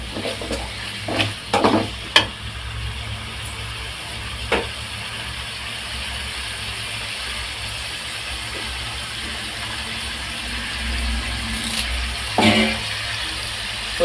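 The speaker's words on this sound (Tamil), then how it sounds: "இதுவே வதக்கிட்டுருங்க." Vegetables such as potato and drumstick being sautéed in a pan for Tamil poricha kulambu, a steady soft sizzle with a few sharp scraping stirs near the start and end, no voices.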